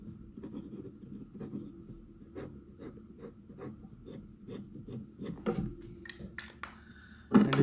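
Steady scratchy scraping of a Franklin Christoph fountain pen with a 1.1mm stub nib moving across paper, a close run of rhythmic strokes that grows louder and ends with a sharper clatter.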